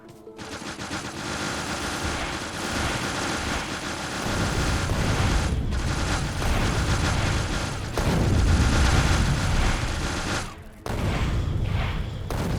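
Sustained rapid gunfire from turrets blasting biter worms in Factorio, a dense continuous roar with booming bursts that runs loud and unbroken, dipping only briefly near the end.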